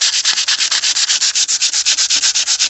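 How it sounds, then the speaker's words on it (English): Rapid rhythmic rasping as 120-grit paper is worked over a repaired hole in a plastic car bumper, even close strokes repeating several times a second, loud and continuous with no voices. "filing this, sanding it, and give it a shape"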